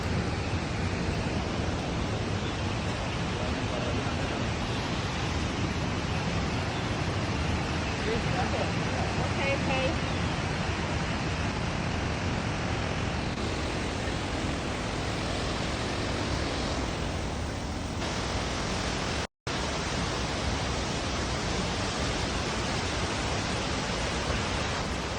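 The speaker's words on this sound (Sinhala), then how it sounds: "අපි ලිෆ්ට් එකේ පල්ලෙහාට ගිහිල්ලා බලමු රම්බොඩ ඇල්ලේ ශබ්දය මොන වගේද කියලා" Ramboda waterfall in Sri Lanka, heard from below with the water running high: a dense, unbroken roar of falling water that stays loud and constant, cut by one brief dropout near the end.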